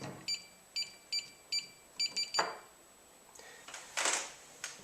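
A Riflewell code combination safe's electronic keypad gives a series of short, thin beeps, about seven evenly spaced, followed by faint clicks and handling noise, fairly quiet and close.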